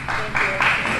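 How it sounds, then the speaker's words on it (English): A gathered community applauds after a press conference announcing a manhunt's end, a sustained crowd clapping that swells in two or three surges, with voices mixed in. "I think the applause says it all."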